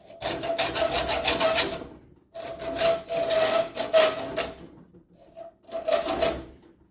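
Rasping, scraping strokes of a file or small saw cutting a screwdriver slot into the head of a broken screw, in three loud bursts of rapid back-and-forth strokes separated by short pauses.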